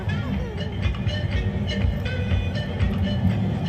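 A Paris metro train rides along with a loud, steady rumble close by. Faint rhythmic clatter and squeals from the wheels and rails run through the sound.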